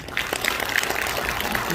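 An audience at a party rally in Busan applauding, a dense, steady patter of clapping that fills the whole moment.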